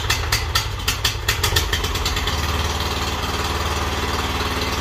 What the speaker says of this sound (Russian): как должен заводиться японский двигатель